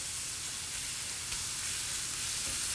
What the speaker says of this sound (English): I prefer getting the onions and the garlic inside of the meat at the same temperature so they can cook together